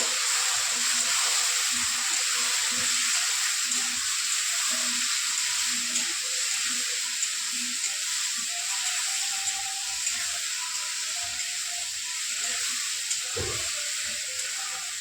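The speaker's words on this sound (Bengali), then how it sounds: "আমি একটু কষিয়ে নিচ্ছি মশলাটাকে।" Masala spices with Kashmiri chilli powder fry in oil in a pan for ghugni, giving a steady, soft hiss and sizzle with occasional stirring clinks and scrapes, heard up close without talk.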